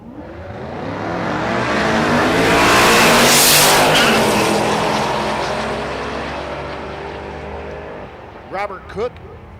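A Fox Mustang drag car roars down a dragstrip, a loud engine that swells and then fades as it passes, with voices briefly heard at the end.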